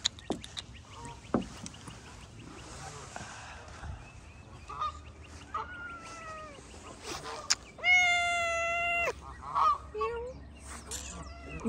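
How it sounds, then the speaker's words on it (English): A house cat meows several times at sunrise, with drawn-out, wavering calls standing out over quiet background noise and a few soft sounds, the loudest cry near the end. "my lovely, lovely Bubbleina, who is meowing"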